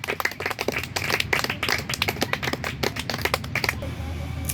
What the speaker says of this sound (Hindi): थोड़ी देर बाद निश्चित रूप से आपको पवेलियन से तालियां सुनाई देंगी